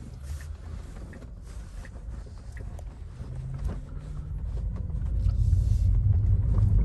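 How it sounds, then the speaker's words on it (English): A hybrid electric vehicle drives along with a steady low road rumble and wind noise that grow gradually louder toward the end, and no one speaks. "First ever drive of an electric vehicle, even a hybrid."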